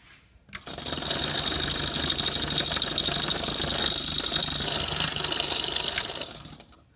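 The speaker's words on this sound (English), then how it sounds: "So the coil spins around due to that torque." A small electric motor with a current-carrying coil spins up and runs, giving a steady close whirring hum for about six seconds before it stops, heard on its own.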